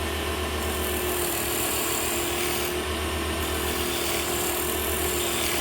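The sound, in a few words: round nose scraper on wood lathe turning ornament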